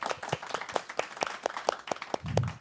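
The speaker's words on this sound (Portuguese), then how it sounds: "uma salva de palmas" Applause from a studio audience at a live Portuguese-language talk show about children's literature, with sparse, separate claps at a steady rhythm and a low rumble near the end.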